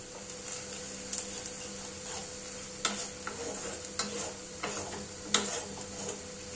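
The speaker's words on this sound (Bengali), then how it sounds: "পেঁয়াজটা ভালোভাবে ভাজার জন্য।" Onions fry in oil with a pinch of salt, giving a constant close sizzle broken by several sharp scrapes and taps from stirring, with no voices.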